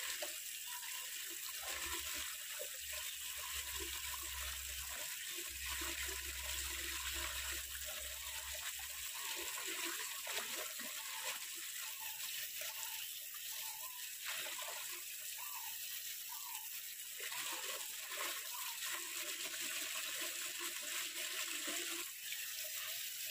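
Peeled cassava being washed in water: faint, steady splashing and running water with occasional sloshing, heard alone and fairly quiet.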